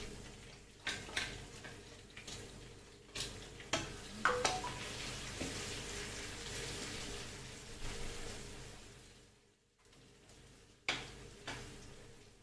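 Masala frying in a pan for Goan mackerel fish molho, a soft steady sizzle broken by intermittent scraping and tapping of a spoon against the pan, fairly quiet and close with a short lull near the end.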